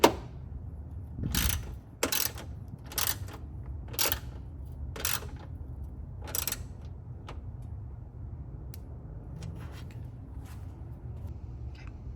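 Ratcheting clicks from a wrench tightening a hood strut bolt on a 2024 Toyota Land Cruiser, several short bursts close up in the first seven seconds, then quieter scattered ticks.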